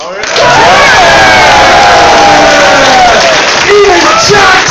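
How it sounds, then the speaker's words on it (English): Loud cheering and applause from a packed cinema audience at a midnight comedy podcast show, with whoops and shouts rising over steady clapping throughout. "the applause right there."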